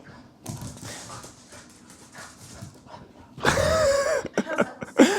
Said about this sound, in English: the dog just chased the cat